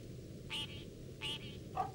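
Barking tree frogs in a pond give three short, explosive, yapping calls, the first two clear and evenly spaced and the last briefer, over a faint outdoor background hiss.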